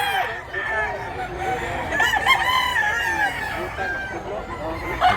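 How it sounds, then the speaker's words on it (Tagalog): Roosters at a Cebu market crow repeatedly in overlapping, drawn-out calls, with several birds close by and others farther off, all over the murmur of a crowd. "Manok."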